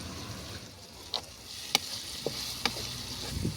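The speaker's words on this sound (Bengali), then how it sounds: "এখন আমি এই ক্যাপসিকাম সঙ্গে একটু ভেজে নেবো" Capsicum frying in a pan for a Bengali navaratna dal, giving a steady sizzle with a few sharp spatula taps and clicks over it.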